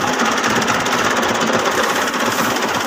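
A thresher machine runs steadily, a loud continuous mechanical whir and rattle with no breaks and no voices over it.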